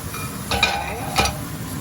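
Mushrooms cooking in a frying pan, a steady close sizzle with two brief scraping stirs of a utensil against the pan, with no talking.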